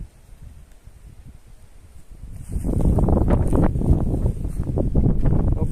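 Gusty wind rumbles against the microphone, quiet at first and then blasting in loud, sustained bursts for the last few seconds.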